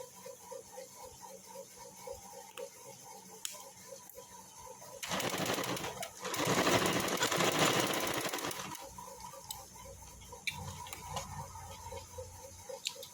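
A sewing machine stitches a nighty's shoulder seam, bursting into a fast, rattling run for about four seconds midway, with quieter clicks and handling before and after.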